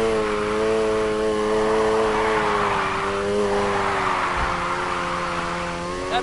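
A car drifts in the racing game Need for Speed Heat, its engine roaring loudly with shifting pitch and tires squealing through the slide, alone without talk.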